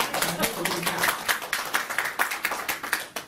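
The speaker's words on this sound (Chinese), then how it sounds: "所以我们用热烈的掌声来欢迎这个简报的出场" An audience bursts into warm applause for a business presentation, a dense run of close clapping with voices mixed in over about three seconds.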